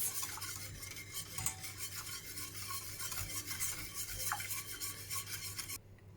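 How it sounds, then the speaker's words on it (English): A spoon scrapes and stirs a thickening supangele pudding mixture with cacao in a pot on the stove, soft repeated rasping strokes under a low steady hum, ending abruptly. "Then mix until cooked. Mixing until cooked."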